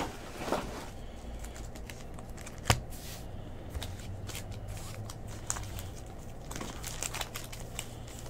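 Trading card packs from a 2022 Topps Series 1 baseball hobby box get shuffled and handled close up, with soft, continuous papery crinkling and rustling and one sharper snap.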